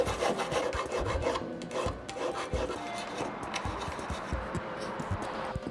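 Metal hand file rasping over a small silver chain bracelet, quick close scraping strokes in an uneven back-and-forth rhythm, loud and dry with no voices.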